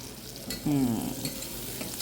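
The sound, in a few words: onions and green chillies frying in oil in a pressure cooker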